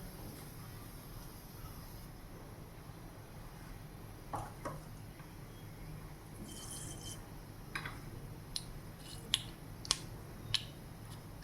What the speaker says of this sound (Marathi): मोहरी छान फुटली आहे